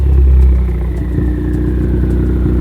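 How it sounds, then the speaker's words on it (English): A 2015 Ford Focus ST idles loudly close by, its exhaust giving a rapid fluttering, chattering turbo pulse after a brief deeper rev at the start. "you can even hear like the turbo fluttering from the exhaust"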